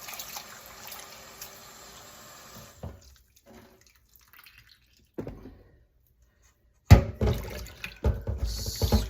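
Tap water runs into a bowl of salted sliced onions for rinsing, a steady hiss at first, then quieter trickles and gaps, ending in louder splashing and swishing close by.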